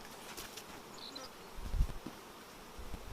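Honeybees buzzing around a hive, with a steady, faint, close drone that swells briefly in the middle.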